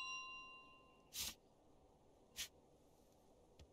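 A bell in a video game rings twice in clear, bright strikes about a second apart, then gives a third fainter ring, over a quiet background hum.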